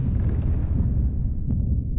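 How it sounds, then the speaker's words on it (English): Fireworks bursting over a night sky at a pyrotechnics display ahead of the Beijing Olympics, heard as a continuous low rumbling roar of explosions with a sharper crackle near the end, loud and without voices. "Amazing pyrotechnics lit up the night sky."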